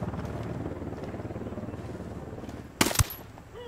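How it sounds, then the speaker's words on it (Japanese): Helicopter approaching in the video game Ghost Recon Wildlands, a steady low rotor rumble rising over the scene, with a brief loud burst of gunfire-like cracks near the end. "こっちにヘリが来る"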